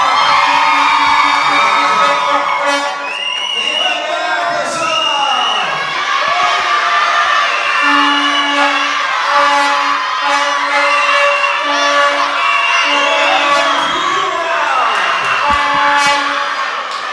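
A crowd of fans at a carnival queen contest in Artur Nogueira cheers, whoops and shouts loudly and continuously, with horn-like toots and bursts of noise over the din for the whole stretch.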